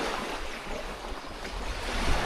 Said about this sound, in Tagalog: dito na kami sa dagat